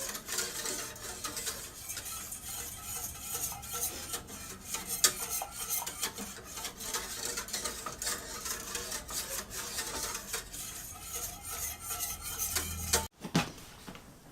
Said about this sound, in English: you do want to stir this continuously